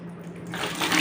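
Tap water runs steadily during handwashing, a continuous close splashing hiss that grows a little louder partway through, with no talk over it.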